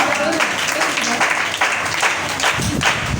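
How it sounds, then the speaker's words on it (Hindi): Applause from a crowd at a religious gathering, a dense patter of many hands clapping steadily, fairly loud, with some voices mixed in underneath. "जोरदार तालियां खुदा के जलाल के लिए बजाइएगा, जोरदार तालियां।"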